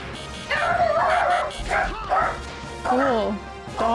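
Dogs in the game Xenogears give loud, repeated yipping barks in short bursts, close and sharp, with some whimpering tones, and a person talks between them.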